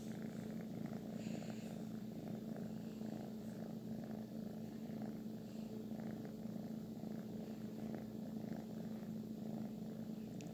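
A domestic cat purrs close to the listener in a steady, continuous low rumble that goes on throughout without a break, with no voices over it.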